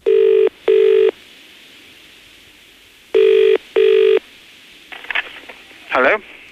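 A telephone rings at the other end of a prank call, giving two long double-burst rings, then two more after a pause, loud and clear. A brief voice follows near the end.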